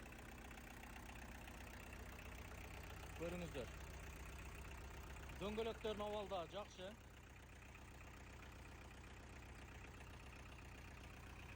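A 35 hp tractor fitted with a rotary tiller idles with a steady, even engine drone throughout, while someone talks briefly over it partway through.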